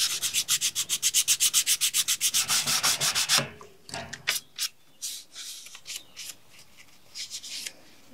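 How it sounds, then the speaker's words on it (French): A Mercedes 190E 2.5-16 interior part is sanded by hand with finer-grit paper: fast, even back-and-forth strokes for about three seconds, then scattered rubs, scrapes and light knocks, close by. "je nettoie et après je ponce avec un grain plus fin."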